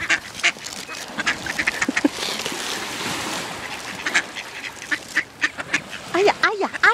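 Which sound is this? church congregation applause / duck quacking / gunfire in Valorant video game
duck quacking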